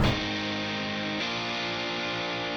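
A second guitar part with a stereo widener effect, playing a chord-based pattern for an anime-style opening intro, with sustained, effect-laden tones ringing steadily and a fresh strum near the middle, heard alone without voices.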